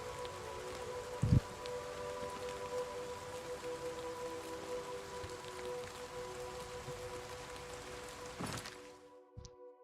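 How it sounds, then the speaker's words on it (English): Rain falls steadily in Oblivion Remastered, a soft constant hiss of drops with a faint tonal hum beneath and a couple of sharp knocks, cutting off abruptly at the end. "It's raining."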